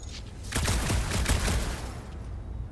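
Zappy energy guns in the Guardians of the Galaxy video game fire at a door in a rapid burst of loud, crackling shots that fade out after about two seconds.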